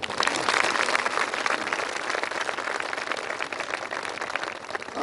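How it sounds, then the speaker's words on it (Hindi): Audience at a Brahma Kumaris ground-breaking and dedication ceremony clapping steadily and densely, a sustained wash of applause with no voices over it. "ताली बजाओ।"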